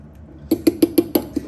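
A spoon presses down on raspberries in a bowl, giving six quick, evenly spaced soft knocks and taps against the dish, close and fairly quiet.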